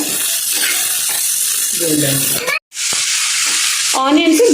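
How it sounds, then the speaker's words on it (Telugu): Chopped onions and green chillies sizzle and crackle in hot oil in a pan, a loud continuous frying hiss with stirring scrapes and a brief break near the middle. "ఉల్లిపాయ పచ్చిమిరకాయ ముక్కలు మనం ఫ్రై చేసుకుంటున్నాం ఇక్కడ"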